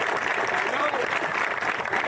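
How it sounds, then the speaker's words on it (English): A brief burst of steady applause rises for basketball players at a New York City showcase event. The dense clapping continues evenly for about two seconds. "let's give it a round of applause"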